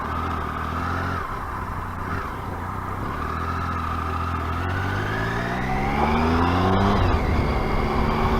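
A Triumph Tiger Sport 1050 on its stock exhaust, ridden along a country road, sends out a steady, smooth engine drone whose pitch climbs gradually as the bike gains speed, with wind rush around it.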